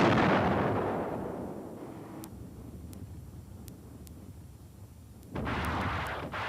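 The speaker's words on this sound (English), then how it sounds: "Propelled by a rocket, it bores through the concrete and explodes deep underneath several seconds after impact." A rocket-propelled Durandal runway-penetrating bomb explodes deep beneath airfield concrete, giving a loud, deep blast that rumbles away over a couple of seconds, then a second heavy burst near the end.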